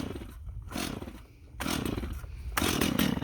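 A Stihl MS250 chainsaw engine starts and revs in rough, roaring bursts, loud and close, rising and falling over a few seconds without any talk.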